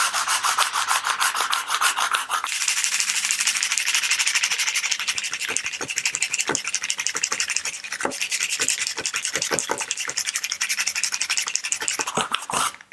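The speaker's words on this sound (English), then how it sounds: "I'm going to wrap some 80 grit sandpaper around the can, like so," Coarse 80 grit sandpaper wrapped around a spray paint can rubs back and forth across a wooden guitar part, a steady close scratchy sanding with rapid repeated strokes throughout, no talking.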